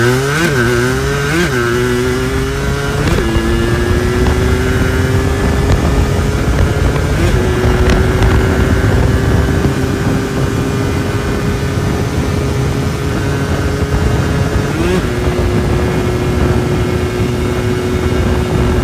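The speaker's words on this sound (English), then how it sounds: "96 Yamaha Blaster drag strip test." A 1996 Yamaha Blaster quad's two-stroke engine screams through a drag strip run, revving sharply through a few quick gear changes, then holding a loud, buzzing high-pitched wail the whole way, close and alone.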